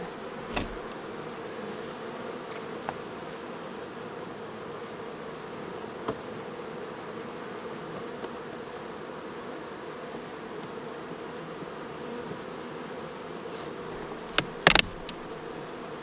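Bees hum around an opened Apimaye plastic hive during a honey harvest, a steady, even drone throughout with a few faint clicks and a brief knock near the end.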